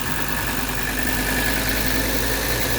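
1983 Mercedes 300TD diesel engine idling, a steady, continuous rumble with a constant hum and even vibration, close and loud with no variation in pace.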